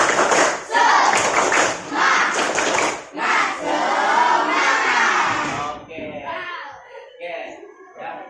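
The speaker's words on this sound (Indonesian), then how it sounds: "kita tepuk semangat dulu. Tepuk semangat." Classroom of children doing a rhythmic clapping chant to lift spirits, loud and close, with bursts of claps and shouted chanting voices in quick succession, ending in scattered speech and a few claps.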